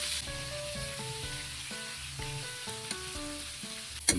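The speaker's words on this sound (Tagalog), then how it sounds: "pirituin natin yung talong" Eggplant frying in hot oil for ginataang tilapia, giving a steady soft sizzle throughout with faint tonal hum beneath and a sharper clatter at the very end.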